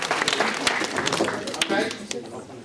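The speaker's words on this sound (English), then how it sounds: "Give a clap." Audience clapping at a Guildhall College induction, a short burst of scattered hand claps mixed with talking voices.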